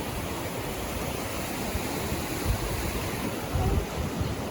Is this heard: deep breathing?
no